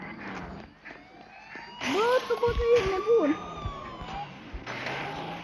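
A police car siren wails at moderate distance with a rising and falling tone amid street noise, while a person talks nearby.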